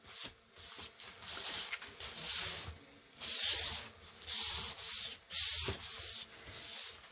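A sponge rubs walnut-colored stain onto foam core in repeated, close scrubbing strokes of uneven length, with short pauses between passes and no talking.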